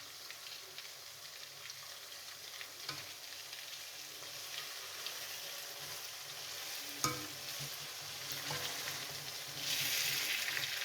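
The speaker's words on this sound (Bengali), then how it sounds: "এখন আমি এর মধ্যে দিয়ে দেব রসুন, কাঁচামরিচ, শুকনো মরিচের পেস্ট দিয়ে আমি 2-3 মিনিটের মতো ভেজে নেব।" Garlic, green chili and dried chili paste frying in a pan, a steady, faint sizzle with occasional stirring clinks and a swell of stronger hiss near the end.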